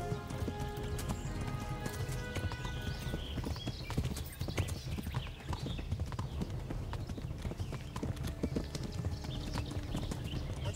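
Rapid, rhythmic clip-clop of horse hooves galloping during a horse race in Kingdom Come: Deliverance, steady and close throughout, with a brief whinny early on and faint game sounds behind.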